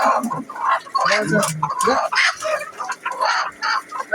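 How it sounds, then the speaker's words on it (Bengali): Four native hens and one rooster cluck and call close by in bursts of overlapping squawks and chatter, with varied, busy rhythm throughout. "এখানে হচ্ছে দেশি মুরগি 4টা আর একটা মোরগ"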